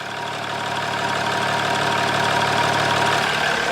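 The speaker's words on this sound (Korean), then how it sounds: "디젤 엔진 소리 한번 들려드릴게요." A Chrysler 300C diesel engine idles steadily with a constant rumbling clatter, close and fairly loud, with no voices.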